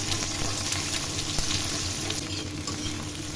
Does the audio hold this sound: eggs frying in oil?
yes